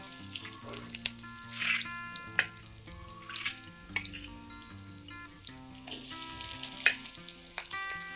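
Onions fry in a pan with a soft sizzle that swells in a few short bursts beneath steady background music.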